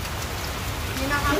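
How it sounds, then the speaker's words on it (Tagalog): Heavy, nonstop rain pours steadily during a typhoon, a dense constant hiss of drops on surfaces, loud and close throughout the short stretch. "Walang tigil ang ulan."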